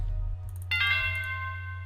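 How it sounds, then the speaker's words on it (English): A bright bell sample rings out in an FL Studio trap beat, a single struck tone with ringing overtones that sustains and fades over a deep steady bass drone. "Oh, what was that bell?"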